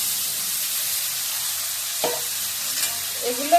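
Steady loud sizzling of potatoes frying in hot oil, with a few scraping stirs near the end.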